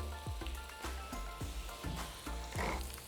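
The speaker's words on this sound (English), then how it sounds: "my potatoes and onions have been cooking away for about 5-10 minutes" Potatoes and onions frying in a pan for a frittata, a steady close sizzle with soft stirring scrapes recurring every half second or so, no voices.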